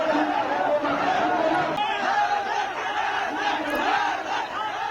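A large crowd of Tehreek-e-Labbaik protesters clashing with police in Islamabad, a continuous roar of many voices with chants and shouts rising and falling, heard from within the throng.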